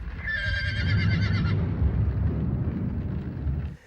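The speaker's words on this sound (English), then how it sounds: "We have no horses, but we have horse sound effects." A horse whinnies loudly and close by, a shrill wavering neigh over a low rumbling background that fades out at the end.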